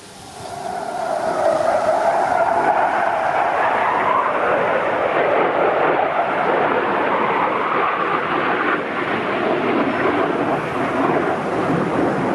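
La'al Ratty narrow-gauge railway train running near Urton Road passing place in the Lake District, a loud, steady rumbling roar that swells in and holds throughout, with no talk.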